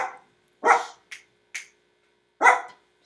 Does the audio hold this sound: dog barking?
yes